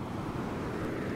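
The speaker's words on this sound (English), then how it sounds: "I am walking down the beach, and the waves are actually pretty cool" Ocean surf rolling onto a beach at the Jersey Shore, a steady broadband wash of breaking waves mixed with wind buffeting the microphone, continuous and fairly close with no speech.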